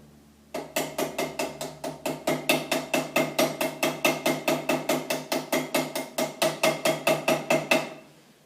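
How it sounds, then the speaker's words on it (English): Steady run of about forty sharp, evenly spaced hammer taps as a pin on a handmade straight razor is peened over a washer, close and loud with no talking. "I need to pin the other side, peen the other side of the pin"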